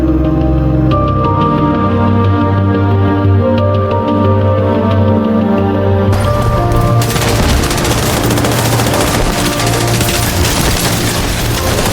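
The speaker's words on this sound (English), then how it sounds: "Hostile artillery." Hostile artillery strikes pound a video game battlefield, with loud continuous rumbling blasts, and the barrage thickens into heavier, denser explosions partway through.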